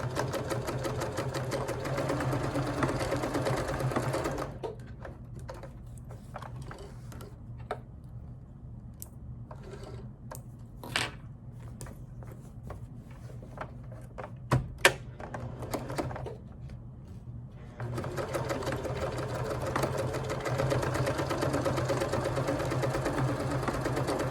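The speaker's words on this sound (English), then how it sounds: "I'm going to stitch right across that" A sewing machine stitches across a zip pouch made from a placemat, a fast steady mechanical whirring that stops for a stretch of quiet clicks and taps and then runs again at the same pace.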